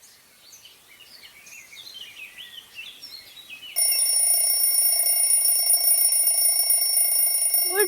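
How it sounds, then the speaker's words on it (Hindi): An alarm clock in a radio drama bursts into loud, continuous electronic ringing partway through, following a stretch of faint bird chirping. "अलार्म तीसरी बार बज रहा है"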